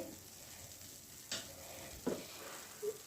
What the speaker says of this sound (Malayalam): അവിൽ മൊത്തം ശർക്കരയായിട്ട് നല്ലപോലെ മിക്സ് ചെയ്തു